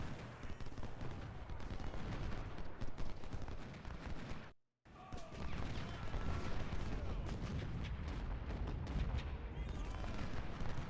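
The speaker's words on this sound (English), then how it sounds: "now he's taking shots with all the artillery in the world" Artillery fires in the Civil War strategy game Ultimate General: Civil War, a dense continuous rumble of cannon and musket fire with repeated booms, briefly cut off once, with a voice speaking over the battle.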